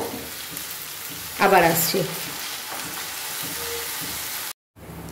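Thinly sliced potatoes deep-fry in hot oil with a constant close sizzle, a loud bubbling burst when more slices go in, and a short remark spoken over it before a brief cut to silence.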